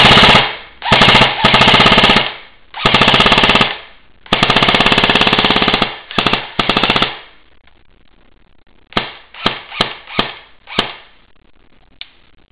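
A JG M4 airsoft gun fires loud full-auto bursts up close, several long sustained strings followed by shorter rapid bursts and single shots, then quiet.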